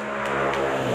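A loud motorcycle engine revs nearby in a brief, steady buzzing whine, holding a high pitch for about a second with no talking.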